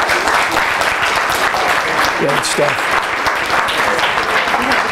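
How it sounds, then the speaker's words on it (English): Audience at a school committee meeting applauds students with steady, dense clapping throughout, while a voice speaks briefly over it partway through. "How about a round of applause for all these kids?"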